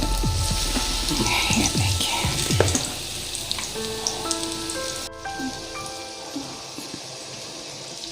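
Mixed-vegetable pakoras frying in hot oil for an iftar meal, a steady dense crackling sizzle with popping bursts that fills the whole clip while someone speaks briefly over it.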